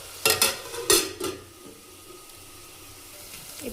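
A spoon stirring drumstick (mullakaya) curry with tomato in a pan, a few quick scraping clatters near the start followed by a soft, steady sizzle, close and without talking.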